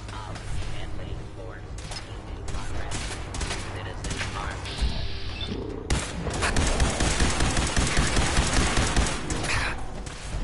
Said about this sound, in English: He's coming out here shooting me.